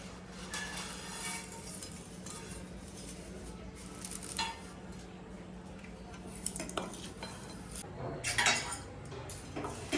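Chinese bhel is tossed by hand in a bowl, giving close, soft rustling and scraping with occasional clinks against the dish and a louder clatter near the end.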